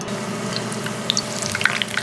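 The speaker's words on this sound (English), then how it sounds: "All right, dude, they're frying." Beer-battered Meyer lemons frying in hot oil, a continuous close sizzle with scattered sharp pops and crackles and no one talking.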